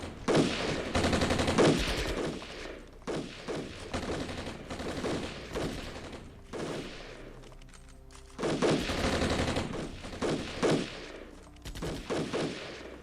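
Troops fire small arms in the Armored Brigade war game, with dense bursts of automatic gunfire in repeated volleys broken by short gaps, loud and close throughout.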